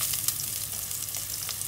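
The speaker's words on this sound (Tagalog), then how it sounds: "igisa na natin ang ating sibuyas" Onions sautéing in a pan for a vegetarian curry, a close, steady sizzle with a few stirring scrapes, no voices.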